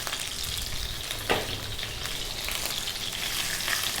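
A cup of sliced red onion fries over fairly low heat in a pan for a Middle Eastern chicken stew, giving a steady close sizzle with a brief stir-like scrape partway through. No one speaks.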